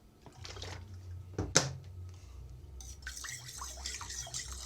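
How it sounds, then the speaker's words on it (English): Water is poured into cow milk in a container, a quiet trickling and splashing after a sharp knock, faint and close. "Then I just have to stir it and add water"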